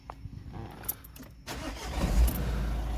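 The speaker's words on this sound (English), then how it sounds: "If we start the vehicle up" A Vauxhall Vivaro 1.6 diesel van with an injection-system warning and a suspected glow plug fault cranks briefly and then catches, settling into a loud, steady low diesel idle. There is no speech.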